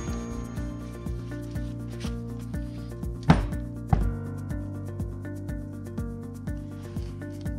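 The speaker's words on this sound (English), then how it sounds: "Wipe up the grease." Paper towels rub grease off Brembo brake parts during a brake rebuild on a GTO, giving soft scrubbing strokes with a couple of sharper knocks, all over a steady tonal hum.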